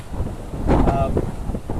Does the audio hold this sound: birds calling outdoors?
no